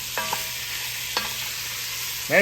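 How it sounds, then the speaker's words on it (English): Vegetables sizzle steadily in a pot for smothered beef, with a spoon scraping and stirring in a few quick strokes over the constant frying hiss. "get a nice little caramelization on the vegetable"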